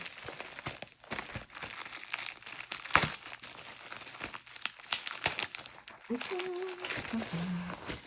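Packaging crinkles and tears in crisp bursts up close, plastic and paper rustling as it is pulled open, with a brief voice near the end.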